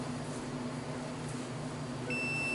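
A multimeter in continuity-test mode, probes on a copper wire, gives a single steady electronic beep that starts near the end and holds over a low background hum.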